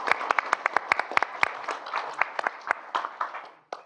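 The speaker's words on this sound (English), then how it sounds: "we can clap now" Applause from attendees at a joint board meeting, with sharp individual claps standing out over a steady patter that thins toward the end.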